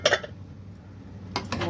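Metal spoon scraping and clinking against a pot of yellow koshari seasoned with turmeric, a few close clatters at the start and again near the end, with a low steady hum between.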